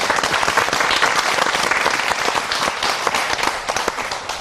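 A studio audience at a Korean talk show breaks into dense, lively applause, many hands clapping loudly and continuously with a slight fade toward the end.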